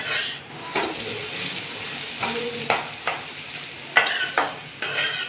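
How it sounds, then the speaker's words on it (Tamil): Ridge gourd skin sautéed in a pan, a steady close sizzle broken by repeated scrapes and stirs of a spatula against the metal at irregular intervals. "பச்சை வாசனை போகிறதுக்கு வதக்கணும்."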